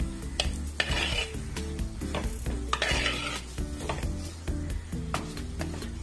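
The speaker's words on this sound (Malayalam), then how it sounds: "തക്കാളി ഇട്ട് നന്നായിട്ട് ഇളക്കി വഴറ്റിയെടുക്കണം." Tomatoes are sautéed in a pan, with repeated scraping and clacking strokes of a spoon against the pan over a steady sizzle, rhythmic and close, with no talking.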